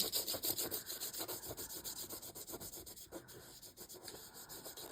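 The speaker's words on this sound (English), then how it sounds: "And I'm just going to rub the salt away." Salt is rubbed off a dried watercolour-style snowdrops-in-snow painting: a steady, close, dry scratchy rubbing of fingers over textured paper and salt grains, continuous with a gentle back-and-forth rhythm and no talking.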